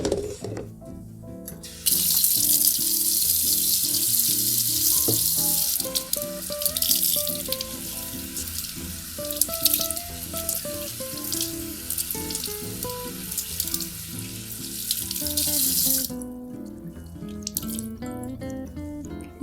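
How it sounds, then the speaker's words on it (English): Water runs from a faucet over a human hair topper in a sink, a continuous splashing hiss that starts and stops abruptly, with soft music playing underneath throughout. "run the topper under the faucet to make sure that it's nice and wet"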